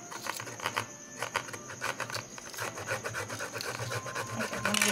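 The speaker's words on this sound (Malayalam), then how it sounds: "സ്റ്റിക്കൊക്കെ ഞാനിപ്പോൾ അതിൻ്റെ കൂടെ അരിഞ്ഞിടുകയാണ്" Vegetables are cut into sticks with a manual kitchen chopper, producing a quick run of close, rhythmic rasping and clicking strokes that continue steadily with brief pauses and no talk.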